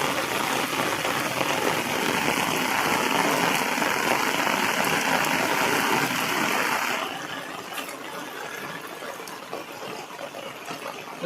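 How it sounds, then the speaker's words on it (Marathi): Heavy rain pours steadily over rice paddy fields in Konkan during planting season, a dense continuous hiss that eases slightly partway through but keeps falling throughout. "जोरात आलाय मित्रांनो पाऊस"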